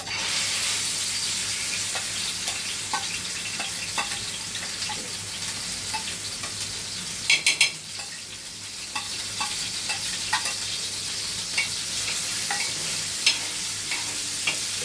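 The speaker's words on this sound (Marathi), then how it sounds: "एवढं तेल गरम झालेलं आहे आता हे मिश्रण आपण तेलात टाकूया" Prawn mince stuffing for Bombay duck (bombil) fry sizzles steadily in hot oil, a dense close hiss with a brief sharper crackle burst midway, and no voices.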